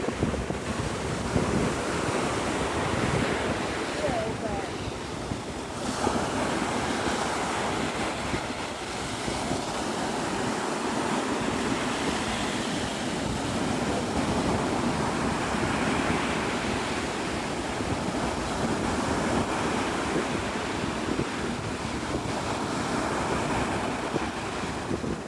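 Ocean waves break and wash continuously on a beach at sunrise, a broad steady surf roar mixed with gusty wind buffeting the microphone.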